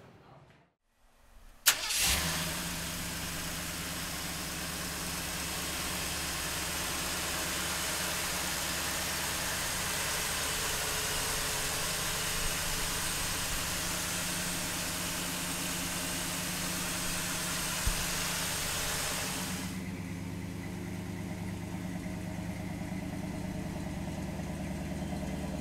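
A 1956 Ford F100 pickup engine cranks briefly, catches and settles into a steady, loud idle that runs for a long stretch before dropping to a lower, quieter idle near the end.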